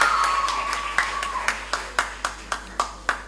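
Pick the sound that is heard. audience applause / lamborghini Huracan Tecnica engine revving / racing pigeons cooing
audience applause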